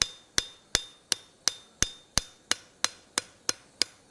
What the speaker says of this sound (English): I like to forge in this taper, this little bevel, right across the piece